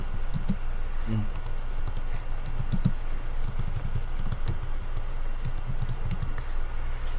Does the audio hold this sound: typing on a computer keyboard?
yes